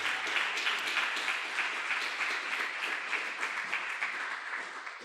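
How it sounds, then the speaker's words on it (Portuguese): A church congregation at a Portuguese-language sermon applauds, producing a sustained, dense wash of clapping that fills the whole stretch and tapers slightly at the end. "Vamos aplaudir mais ao Senhor essa palavra."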